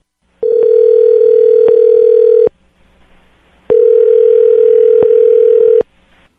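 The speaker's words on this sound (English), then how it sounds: "I'm going to dial the phone number right now" A steady electronic phone tone sounds for about two seconds, stops, then returns for another two seconds, loud and clear with no speech.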